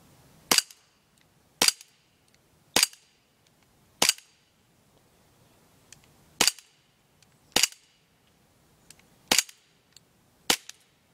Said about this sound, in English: And now I'm just going to do a side-by shooting test.